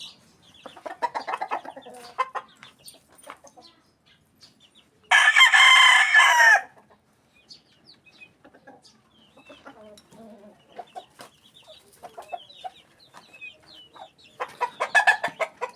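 Kamanukis chickens cluck softly and sporadically, then one rooster lets out a single loud crow before the quiet clucking and pecking resume.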